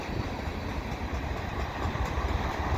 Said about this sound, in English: get a nice shot of this train going by